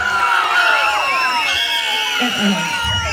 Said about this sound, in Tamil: பரமன் குறிச்சியோட ஒரு கைத்தட்டலும் விசில் சத்தமும்